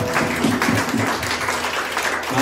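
A church congregation claps together during a morning service, giving a steady, dense wash of applause with no pauses.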